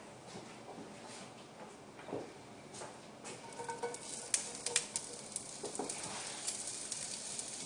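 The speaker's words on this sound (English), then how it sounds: "you can hear it start to cook a little" Asparagus spears laid into olive oil in a large cast iron pan over low heat give a faint, steady sizzle with small crackles and pops that grow busier toward the end, alone without talk.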